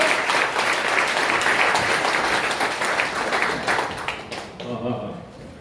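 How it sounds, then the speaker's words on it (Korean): Audience at a seminar on the WEA held by a Korean Christian council claps steadily, a dense continuous wash of applause that thins out near the end as voices begin to come through. "박수 한 번 더 좀 무럭하게"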